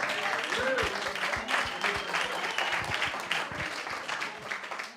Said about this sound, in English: I feel like we could just keep clapping